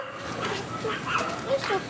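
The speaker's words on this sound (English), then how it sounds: "Stop barking, Wendy." A dog barks and yips at a family reunion, with short, sharp barks and whimpers mixed in among people talking nearby.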